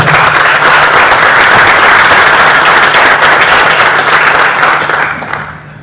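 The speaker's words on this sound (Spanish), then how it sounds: "Démosle un fuerte aplauso a nuestro ponente" Audience at a legal lecture on case theory in the Mexican accusatory justice system gives a speaker steady, loud applause that fills the hall for about five seconds, then thins out and fades at the end.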